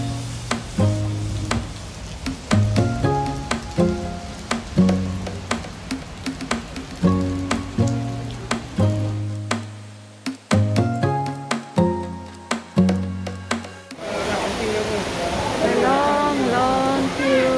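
Rain falls on a rainy day in Singapore, a steady hiss beneath loud music with a strong beat, turning into a wash of noise toward the end.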